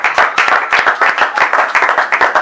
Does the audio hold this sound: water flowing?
no